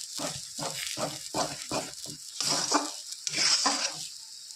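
Mashed taro sizzles in a pan while being stirred, with a series of rhythmic scraping strokes over soft frying hiss, close and fairly quiet.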